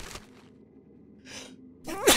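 A single sneeze from a person bursts out sharply at the end, preceded by a short breathy intake, with faint background hum and otherwise quiet surroundings.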